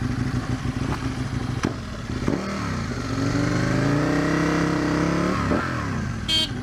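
An Aprilia RSV Tuono Gen 1 motorcycle being ridden, its engine droning loud and steady with rising and falling revs as the rider shifts and accelerates, plus wind rush throughout and a brief clatter near the end.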